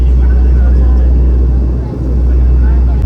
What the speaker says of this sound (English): Now the plane has entered the Kathmandu valley